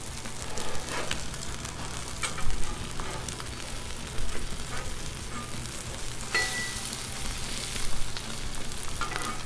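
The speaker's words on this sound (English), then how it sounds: "even my spatula is so hot that it's cooking the eggs" Eggs frying on a hot Blackstone griddle give a steady, close sizzle with occasional louder crackles and spatula scrapes throughout.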